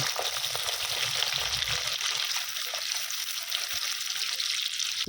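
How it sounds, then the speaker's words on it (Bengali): Sliced onions deep-frying in white oil in a kadai for biryani, giving a dense, continuous bubbling hiss that stays steady and close throughout. "বেরেস্তার পেঁয়াজটা এর মধ্যে ভেজে নেব"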